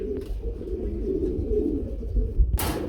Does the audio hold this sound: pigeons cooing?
yes